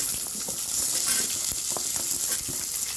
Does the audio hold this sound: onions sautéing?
yes